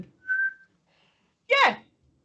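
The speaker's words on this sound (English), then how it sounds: "No, whistling." Two short whistles: a steady held tone, then after a pause a brief bright whistle with a rising, slightly warbling shape, close and clear.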